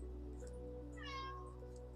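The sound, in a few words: cat meowing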